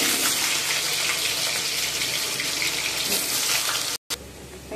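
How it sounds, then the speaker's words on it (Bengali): Cut potatoes stirred in a hot pan, with steady loud sizzling and frying noise throughout and a brief cut near the end, during home cooking for the Maha Ashtami festival. "কেটে রাখা আলুগুলো আমি এখন ভালো করে নেড়ে নেব।"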